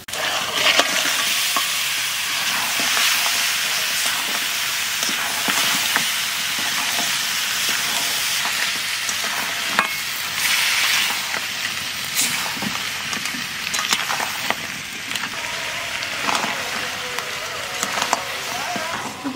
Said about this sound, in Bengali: এইবার কাঁকড়া মাছ দিয়ে দেবো।